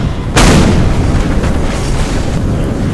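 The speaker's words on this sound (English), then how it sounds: "line up in a single file line so I can shoot you" A single loud gunshot blast from a Skibidi Toilet video game, sharp at first and then leaving a sustained rumbling, noisy tail that lasts for the rest of the moment.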